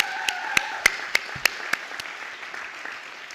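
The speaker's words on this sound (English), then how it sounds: "Let's give ourselves an applause." Applause from a church congregation at an anniversary celebration, a handful of sharp, evenly spaced claps standing out over a softer wash of clapping that fades after a few seconds.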